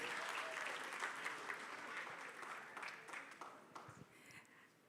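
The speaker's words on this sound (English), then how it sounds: "Makofi tafadhali." Audience applause fills a book launch event for a memoir, steady clapping from a room of people sustained for nearly five seconds before gradually thinning out.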